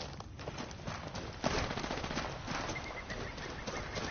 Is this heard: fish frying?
no